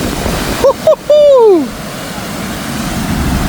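Water from the Muthaiyankattu tank gushes over its reservoir spillway in a loud, continuous roar, with a brief gliding voice-like call rising above it early on.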